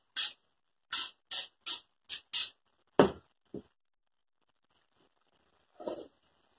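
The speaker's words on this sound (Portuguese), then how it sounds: "Vamos colocar a cola, ó, spray." Spray adhesive is sprayed onto fabric for a ladybug patch-appliqué fabric rug: six quick, close hissing bursts in a row, then a stronger spurt, a short puff, and one last spray after a pause.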